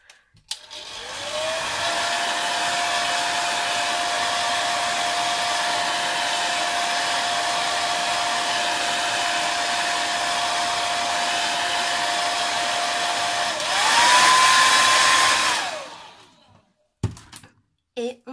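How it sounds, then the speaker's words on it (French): A heat tool drying embossing ink blows a steady, loud whirring drone for about thirteen seconds, rises briefly in pitch, then switches off and leaves a few small knocks. "Je vais sécher un petit peu mes ancrages et vous montrer ce que cela donne."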